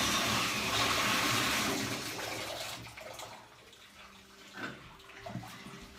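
Water gushes loudly into a bathtub while two French bulldogs are bathed, then the flow stops, leaving quieter splashes and small knocks.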